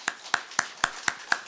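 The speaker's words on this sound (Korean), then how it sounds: "격려의 박수 한번 하겠습니다" A church congregation gives a short burst of applause, six crisp evenly spaced claps close to the mic and clearly separated.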